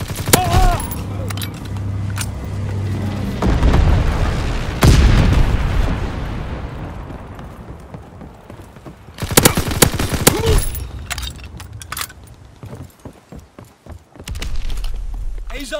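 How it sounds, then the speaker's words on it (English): Incendiary bombs erupt in a Call of Duty: WWII team deathmatch: heavy booming blasts around the middle and again near the end, amid rattling gunfire and game voice lines. "Incendiary bombs incoming"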